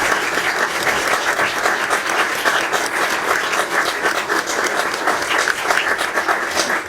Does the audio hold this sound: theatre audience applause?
yes